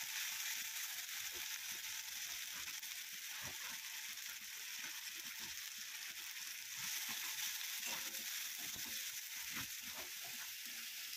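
Mutton trotters and fried potatoes sauté in a pan with onion, crushed garlic, cumin, coriander, ginger-chilli paste, salt and turmeric, giving a steady, close sizzle with scattered scraping and stirring clicks throughout.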